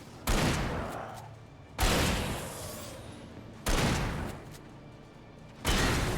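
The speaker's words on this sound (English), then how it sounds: "It is a shotgun" Four heavy shotgun blasts in the video game Alan Wake, each a loud, close boom with a long decaying tail, spaced roughly two seconds apart with no talking in between.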